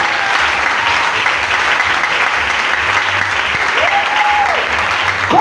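A church congregation applauds and cheers for God, a loud, continuous wash of clapping and crowd noise that holds steady throughout with no break.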